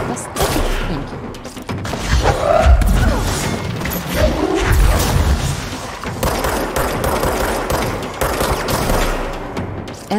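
Gunfire in the action video game Control: repeated loud bursts of shots and impacts across the whole stretch, with crashes and a voice talking intermittently underneath.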